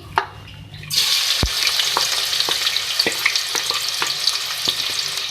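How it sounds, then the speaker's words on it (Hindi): Onions, two medium ones, frying in hot oil in a pot for a marinated beef masala, giving a steady close sizzle with periodic stirring clatters and scrapes throughout, no talking. "सबसे पहले ऑयल में जो है मैं प्याज फ्राई करूँगी 2 मीडियम साइज़ की।"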